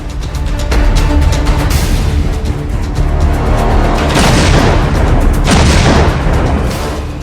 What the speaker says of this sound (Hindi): LOC के 10 सेक्टर्स पर पाकिस्तानी फायरिंग का मुंह तोड़ जवाब।